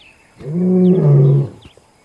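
A big white male lion gives one loud, close, sustained roar lasting about a second, deep and rumbling, with quiet before and after.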